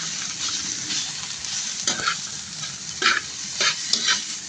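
Garlic, onion and tomato sizzle in a pan while being stirred, with a steady frying hiss broken by several sharp scrapes and clinks of the spoon against the pan.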